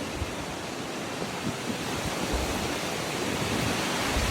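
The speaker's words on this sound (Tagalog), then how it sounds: "Lakas na hangin. At lamig." Strong, cold wind roaring steadily into the microphone outdoors in Nasushiobara, Japan, a dense unbroken rush with no voices.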